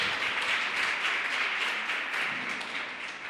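A church congregation applauding together, a dense sustained patter of many hands clapping that swells early and then gradually fades, with no talk over it.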